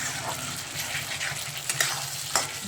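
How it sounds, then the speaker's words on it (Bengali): Goat mutton with spices sizzles and fries in a pan, a dense, continuous close hiss with a few sharper crackles and stirring scrapes, heard alone. "মশলা দিয়ে মাংসটা ভালো করে কষিয়ে নেব।"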